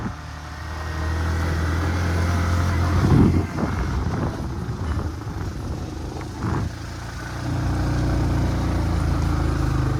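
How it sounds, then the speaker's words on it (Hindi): A powerful motorcycle engine drones steadily and loudly as the bike climbs a mountain road toward a temple, its pitch shifting slightly midway with brief surges, heard alone without talk. "हालांकि ये काफ़ी पावरफुल बाइक है,"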